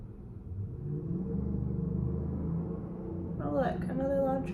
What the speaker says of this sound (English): Oh look, another loud truck.